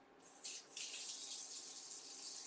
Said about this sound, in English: Okay, a little bit more water.